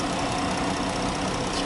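A 3.6 liter Pentastar V6 with variable valve timing in a 2015 Dodge Grand Caravan SE runs steadily at idle, a close, even broadband engine rumble with no talking.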